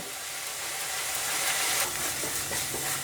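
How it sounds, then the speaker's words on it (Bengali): Coriander powder and cumin masala sautéing in a pan for Bengali ghugni, a steady soft sizzle with faint scraping of stirring throughout, close and continuous with no voices. "হাফ টেবিল চামচ ধনে গুঁড়ো দিয়ে খুব ভালো করে আমি এটাকে মশলাটাকে খুব ভালো করে কষিয়ে নেব।"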